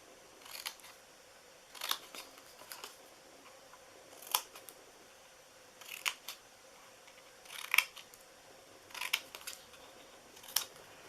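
Scissors snip through the flaps of a cardboard treat box in about eight separate short cuts, each a crisp, close snap followed by a brief pause in a quiet room.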